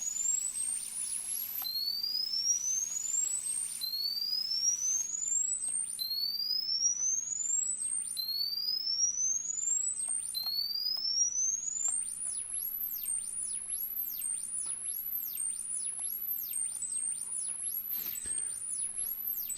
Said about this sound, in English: So you can hear the sweepiness.